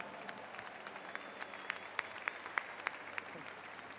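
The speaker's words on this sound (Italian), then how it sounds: "un applauso" A crowd at Pope Francis's gathering in Verona claps faintly and steadily from a distance, with a few sharper claps and cheers standing out over the soft wash.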